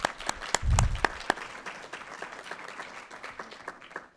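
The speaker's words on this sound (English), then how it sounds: "he deserves a significant round of applause" At a school board meeting, scattered, sparse clapping for a freshman student starts with a few sharp claps, swells briefly with a thump, then thins out into fading individual claps.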